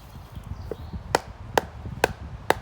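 A knife batoned through a log to split wood: four sharp wooden knocks spaced about half a second apart, close and crisp over quiet background.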